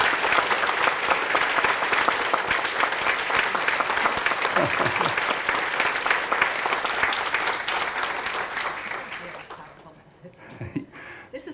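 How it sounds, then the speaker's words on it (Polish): Sustained audience applause after a role-play demonstration at a psychotherapy talk, steady crowd clapping for about ten seconds before fading out, with a few faint sounds at the tail. "And let's give Donna a huge round of applause."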